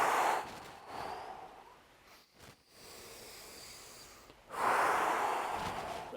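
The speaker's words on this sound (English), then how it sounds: "So we're going to breathe in." Deep breaths drawn in and let out during a breathing squat workout, soft and close, a strong inhale at the start and another near the end, with quiet air between.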